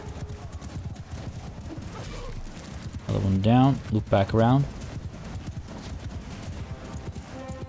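Horse hooves galloping in the video game Mount & Blade II: Bannerlord, a steady rapid clip-clop of a ridden horse running under battle ambience while someone talks over it briefly.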